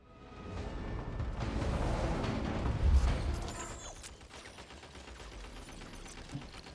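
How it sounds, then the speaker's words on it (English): Dense shooting in a Genshin Impact battle builds into a heavy roaring barrage with whooshing bursts, then thins out to lighter scattered hits and crackles. "Oh, we're shooting too."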